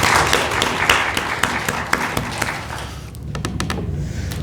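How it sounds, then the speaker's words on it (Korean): A church congregation applauds its choir during a Sunday worship service, with dense, sustained clapping from many hands that thins slightly near the end, leaving a few distinct claps. "우리 성가대에 박수 한번 쳐드릴까요?"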